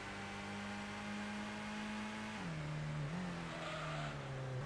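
A car driving in the racing game Gran Turismo 1, heard as a faint, steady engine drone whose pitch dips and wavers partway through, with no one talking.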